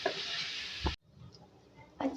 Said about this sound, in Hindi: इस तरीके से फ्राई करेंगे।